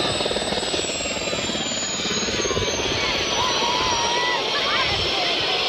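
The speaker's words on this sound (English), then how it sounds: "all waving at the helicopter" A helicopter flies overhead at a 1994 event at Wallop, its steady rotor chop and engine roar loud and continuous throughout, with voices and crowd noise mixed underneath.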